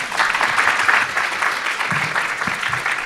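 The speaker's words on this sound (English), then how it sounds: "Round of applause." Applause from a conference audience thanking panelists at a health policy institute event, a dense, steady wash of many hands clapping that fills the whole stretch at even loudness, with no talk over it.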